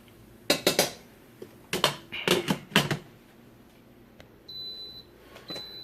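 Several sharp clatters of dishes and utensils come first, then a rice cooker's thin electronic beep sounds twice, the second following after a short gap.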